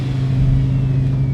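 A car engine holds a steady, loud mid-pitched drone close by, revving on a high, nearly constant note across the whole short moment with no voices.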